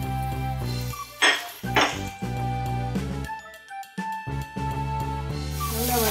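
Onions and curry leaves sautéed with yam in a pan, metal spoon clinking and scraping against the pan in irregular bursts over a faint background tone.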